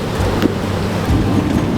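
Strong wind in the 30s with squall gusts near 40 at sea aboard a sailboat, heard as a steady, dense roar of rushing air and water with brief louder gusts, and no talking.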